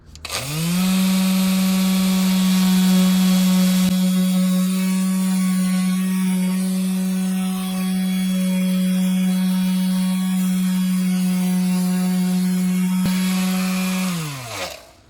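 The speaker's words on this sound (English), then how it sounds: "I'm going to hit it with my little mouse sander now. I've got 1000 grit on the end." Small electric mouse sander fitted with 1000 grit sandpaper working on a car door panel of a Suzuki Swift Sport, a steady loud motor whine held for about fourteen seconds, starting and stopping cleanly.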